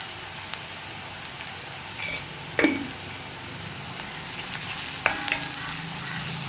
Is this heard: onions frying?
yes